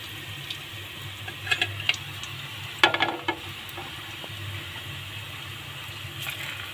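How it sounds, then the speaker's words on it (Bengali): Puli pitha fry in oil in a pan, giving a soft, steady sizzle with a few sharper crackling bursts near the middle, and no voices. "অন্য সাইডে আমি পুলিগুলোকে ভেজে নিচ্ছি।"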